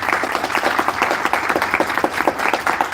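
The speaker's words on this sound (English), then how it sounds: "Can you just give applause for him?" An audience applauds a mentor standing up at a live event, with steady close clapping from many hands filling the room.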